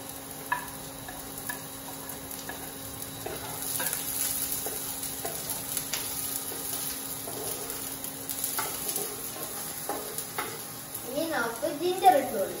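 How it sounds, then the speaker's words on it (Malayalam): Chilli and curry leaves frying in a pan for a Thai-style red snapper dish, a continuous close sizzle with stirring scrapes and light utensil clicks, louder crackling near the end, with talking over it. "ഇനിയാണ് നമ്മൾ ചില്ലി ഇടാൻ പോകുന്നത്. അവസാനം കരിവേപ്പില"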